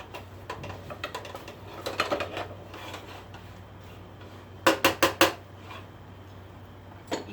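Tortilla strips being cut into migas in a pan with a utensil, giving scattered light scraping taps and then a cluster of four sharp, close knocks against the pan over a low steady hum.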